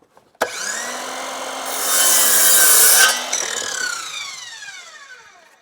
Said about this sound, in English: I'm going to go cut it square on the end